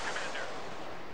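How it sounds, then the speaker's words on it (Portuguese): Naval gunfire in the World of Warships battle game, a muffled broadband boom with a rumbling tail over about a second, fairly quiet and low in the mix behind game ambience. "Será que esse tiro pega?"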